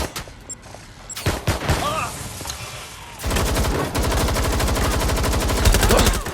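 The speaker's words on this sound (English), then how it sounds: "Shots fired! Shots fired!" Gunfire in the video game Watch Dogs Legion: a few loud single shots, then sustained rapid automatic fire that continues steadily to the end, with a voice briefly under the shooting.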